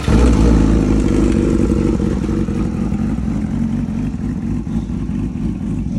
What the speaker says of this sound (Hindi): तो चलो बाइक को अभी स्टार्ट करते हैं